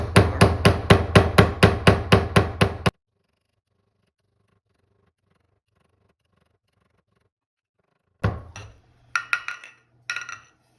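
A hammer repeatedly pounding hard pieces in a mortar: a fast, steady run of about a dozen loud close strikes, then a long silence and a few scattered cracking knocks.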